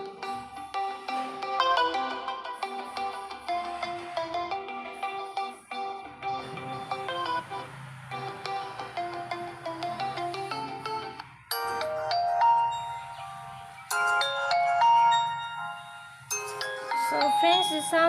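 A realme narzo N55 phone plays its ringtone, a bright melodic chime tune with layered synth tones that runs continuously, shifting phrases partway through, clear and fairly close.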